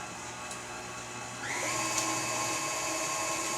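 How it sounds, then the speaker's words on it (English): An electric stand mixer whirs as it beats banana bread batter. The motor hums steadily, then its whine steps up to a higher, louder speed partway through and holds there. "we're going to put that under the mixer. We're going to mix that all up"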